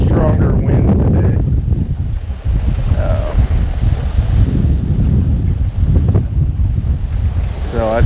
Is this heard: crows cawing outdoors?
no